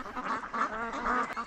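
Ducks quack in a busy, overlapping chorus at a rural duck farm in Lianzhou, near and fairly loud, with no talk.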